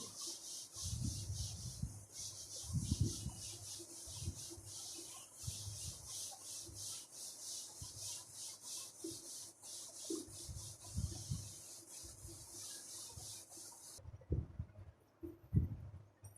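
Writing is rubbed off a classroom board with a series of soft, close scrubbing strokes, quiet and irregular in rhythm, over a faint steady background hiss, with no talking.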